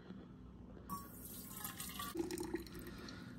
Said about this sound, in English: So now I can just take this out and pour it into my carafe right here.